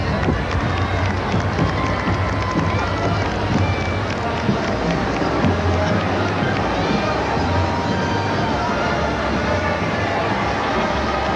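A parade crowd cheers and chatters in a dense, steady roar of many voices, close and continuous throughout, with no single voice standing out.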